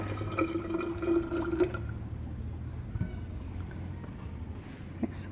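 Hot water pours steadily into a mason jar holding sugar for kombucha for a couple of seconds, then trickles and settles into a softer liquid murmur.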